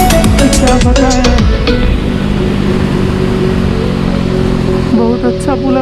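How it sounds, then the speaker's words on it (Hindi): A KTM RC 390 motorcycle with an aftermarket exhaust revs loud and close, its engine note climbing through gear pulls on a rainy empty road, with a rider's voice partly over it. "बहुत अच्छा पुल अप कर रही है मेरा गाड़ी यार भाई"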